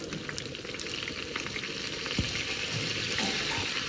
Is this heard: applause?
no